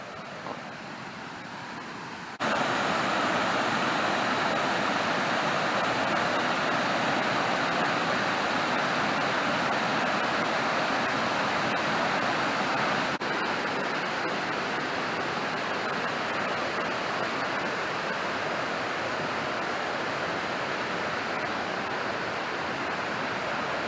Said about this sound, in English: you can hear the water falling